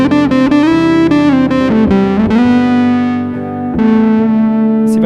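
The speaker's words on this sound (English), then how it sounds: "I could put my distortion on like this." An electric guitar played through a distortion pedal, loud and close, with a quick run of picked notes settling into sustained, heavily overdriven chords that ring out, briefly fade, then return.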